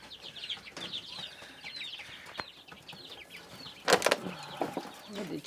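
Backyard quails in a cage on a small home farm give soft chirps and clucks, with a brief sharp flurry of calls near the four-second mark and faint rustling, moderately close and with no talk.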